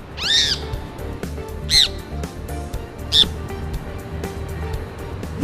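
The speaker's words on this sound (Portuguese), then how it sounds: "um passarinho tava batendo na janela, a gente conseguiu pegar ele" A small captured bird, caught after hitting a window, gives three loud, sharp squawks spaced about a second and a half apart, close up against a low background rumble.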